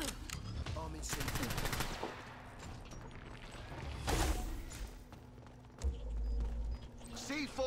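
Rapid automatic fire from a sentry gun in the shooter game Dirty Bomb, bursts crackling amid other game gunfire and effects while a player talks excitedly over it.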